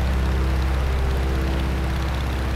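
The Stearman biplane's radial engine drones steadily in Microsoft Flight, a loud, continuous low propeller rumble with a throbbing pulse and no talk.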